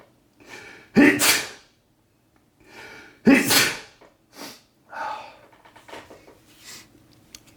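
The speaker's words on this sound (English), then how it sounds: "Sneeze is coming." A person sneezes loudly twice in close succession, each sharp burst followed by breathy sniffs and gasps, close up with no talking, during a football trading card box break.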